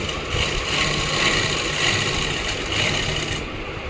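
A sewing machine runs steadily while stitching the pocket of an Afghani pant, its rhythmic mechanical whir close and continuous, with no talking.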